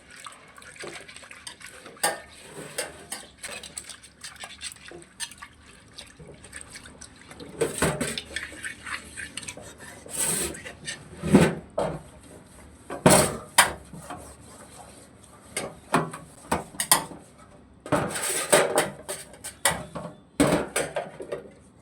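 A fish curry pot is scrubbed with tamarind and rinsed in water in a Kerala kitchen: scattered clanks and scrapes of the pot knocking about, water splashing and running between the louder knocks.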